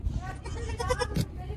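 A baby black goat on a mountain farm bleats in a short wavering cry close by, amid outdoor background noise, with a person speaking around it.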